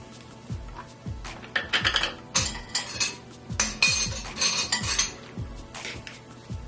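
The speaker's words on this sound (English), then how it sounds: "Now I'm going to add my relish." A spoon clinks and scrapes against a bowl while relish is stirred into a potato salad deviled egg filling, giving a steady series of close, sharp metallic taps and scrapes with no talking.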